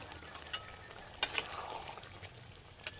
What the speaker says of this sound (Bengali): ভেজে রাখা পটল আর চিংড়ির সঙ্গে মশলাটাকে আরও 3 থেকে 4 মিনিট ধরে ভালোভাবে মিডিয়াম আঁচে কষিয়ে নিতে হবে